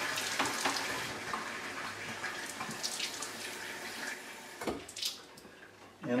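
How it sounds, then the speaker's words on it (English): Hot tap water runs steadily from a faucet into a pipe, a close rushing flow with brief splashing shifts near the end and no talking. "My hot water runs pretty hot, so I just fill the pipe."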